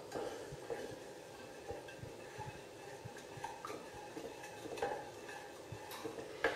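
Golden milk with cinnamon being stirred in a pot, soft repeated scraping and clinking of a spoon against the pan, faint and continuous.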